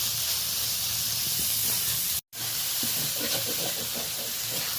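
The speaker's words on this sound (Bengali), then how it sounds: "চিংড়ি মাছটা হালকা করে আমি ভেজে নিলাম" Large tiger prawns fry lightly in hot oil, making a broad, steady hiss and spatter that cuts out for a moment midway, then resumes with faint clatter underneath.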